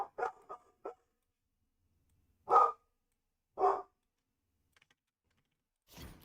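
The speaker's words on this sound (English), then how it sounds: "What is the dog doing?" A dog barks indoors in a few sharp, close bursts: a quick cluster at first, then two separate loud barks with quiet gaps between, and a faint scuffle at the end.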